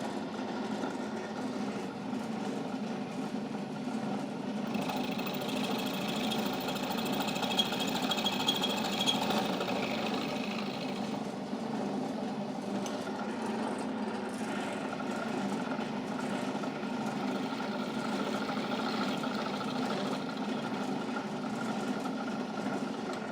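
A planetary gear shaft is machined on a rotary table with a light finishing cut, producing a steady mechanical rumble and whir that holds at a moderate level throughout, with a brief brighter tone in the middle.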